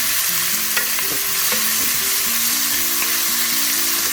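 Onion, green chili, ginger and curry leaves sizzle steadily in a pan with semolina, a constant frying hiss with scattered stirring clinks, close and fairly loud, with no talking.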